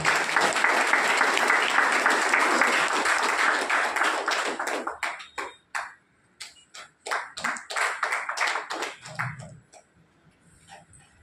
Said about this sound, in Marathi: जोरदार टाळ्या जाऊ द्या.